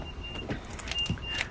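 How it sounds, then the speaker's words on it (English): A 2024 Mitsubishi Eclipse Cross GT being unlocked, a few short mechanical clunks of the door locks actuating over a quiet background. "Let's unlock entire car."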